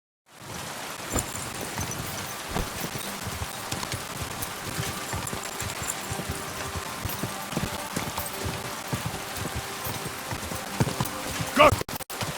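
A horse's hooves clip-clop steadily in Kingdom Come: Deliverance II, a continuous patter of close footfalls over an ambient outdoor bed with a faint rain-like hiss.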